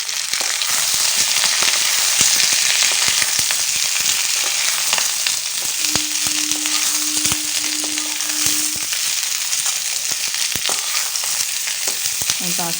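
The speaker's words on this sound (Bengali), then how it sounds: "এবার আমি ভালো করে এটা ভাজা ভাজা করে নেব 5-7 মিনিট ধরে।" Ivy gourd (kundri) frying in a wok for a poppy seed dish, a loud, close, crackling sizzle full of rapid pops and spatters, with a brief tonal beeping midway and no talking.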